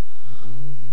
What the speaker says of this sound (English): And you're snoring.